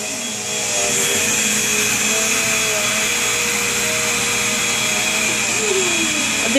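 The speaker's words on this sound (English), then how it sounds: "Are you done vacuuming?" A toddler runs a vacuum cleaner indoors. After a brief quiet start, a loud, steady motor drone with a high whine switches on and holds evenly to the end.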